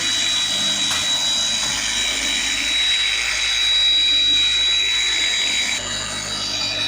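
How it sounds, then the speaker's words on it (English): A car paint polisher running on speed 3 against a painted panel, a loud continuous whirring drone with a high whine that holds steady throughout, close to the machine and with no voices over it. "You always want to start the polisher on the paint, not in the air."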